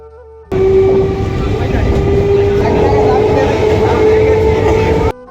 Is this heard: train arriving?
yes